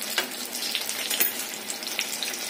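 Brinjal pieces fry in hot oil in a pan, giving a steady, close sizzle with continuous crackling and small pops throughout and no voices.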